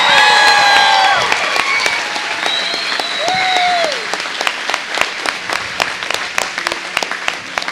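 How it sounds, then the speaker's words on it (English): Audience applause for the 2023 graduates at a high school graduation ceremony, steady and full for the whole stretch, with faint whistles and cheers rising over the clapping early on. "one last applause for the graduates of"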